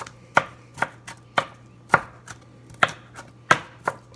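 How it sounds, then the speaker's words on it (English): A kitchen knife rough-chops a whole jalapeno on a cutting board, giving about a dozen crisp, close knocks in an uneven rhythm, some strikes sharper than others, with no speech. "we'll just do the whole jalapeno. And I'm just kind of rough chopping it."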